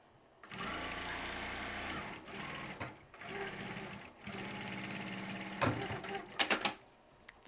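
Sewing machine stitching a project bag in several long, steady runs broken by short stops, a close, even mechanical hum, ending with a few sharp clicks and handling sounds.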